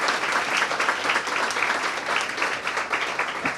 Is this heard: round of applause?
yes